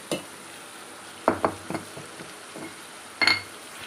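Dried fish curry (karuvaadu kuzhambu) ingredients are stirred and sautéed in a pan, with a few brief, close scraping strokes over a low, steady frying hiss and no talking.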